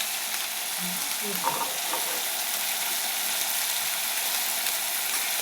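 Spice-washing water poured into hot oil for a paneer curry sets off a loud, continuous broadband sizzle that holds steady throughout, with a few faint stirring scrapes early on.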